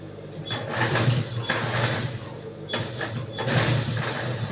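A sewing machine stitches a lining blouse in several bursts, whirring mechanically at close range with brief pauses and quieter gaps between runs.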